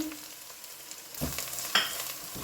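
Spices and a bay leaf fry in a pan, first as a soft low sizzle, then as louder bursts of crackle and stirring scrapes in the second half.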